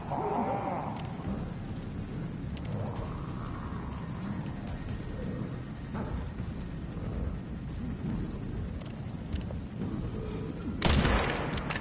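Gunfire rings out in a Resident Evil game, scattered shots over a murky, rumbling background, with a sharp loud burst near the end and no speech.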